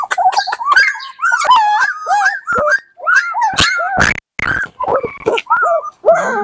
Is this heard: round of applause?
no